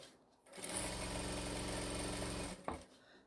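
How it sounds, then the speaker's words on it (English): A sewing machine runs steadily while stitching a tote bag, one continuous close whir of about two seconds that stops with a brief clunk. "Stitch down again, like I say, to the proper stitch for functioning."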